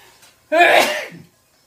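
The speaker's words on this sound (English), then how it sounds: "Curry powder almost always makes me sneeze." A single loud sneeze bursts out after a brief quiet moment, sharp at the start and trailing off within about half a second.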